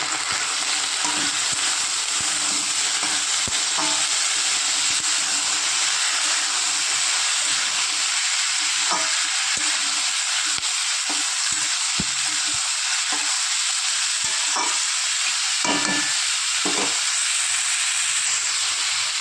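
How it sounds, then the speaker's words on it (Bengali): Onions and potatoes fry together in a pan, a steady broadband sizzle running throughout with intermittent scraping clicks of a spatula stirring, close and fairly loud, no voices. "একসাথে পেঁয়াজ আলু ভাজা ভাজা করে।"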